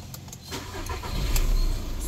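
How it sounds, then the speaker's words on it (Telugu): A 2018 Skoda Rapid diesel car with about 61,000 km starts up on a single crank, the engine catching and rising into a rough, building rumble close at hand. "ఇంజన్ అనేది స్టార్ట్ అయిపోయింది."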